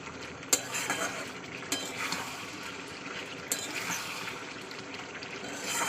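Chicken with spices fries in a pan while a spoon stirs and scrapes it, giving a steady soft sizzle broken by occasional sharp metallic clinks against the pan.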